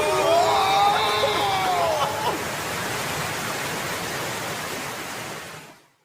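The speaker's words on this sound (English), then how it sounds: "Then the raft goes over a waterfall." Steady roaring rush of water as a raft plunges over a waterfall, a loud broadband wash sustained for about five seconds before cutting off.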